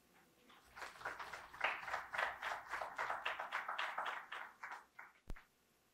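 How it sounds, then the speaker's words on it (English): Audience applause at a community talk on the Chicano Movement in Colorado, a steady round of clapping from a sizeable crowd lasting about four seconds and tapering off, followed by one sharp knock near the end. "I would like to give her a round of applause."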